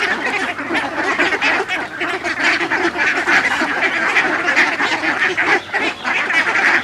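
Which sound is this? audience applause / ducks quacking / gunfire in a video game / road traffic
ducks quacking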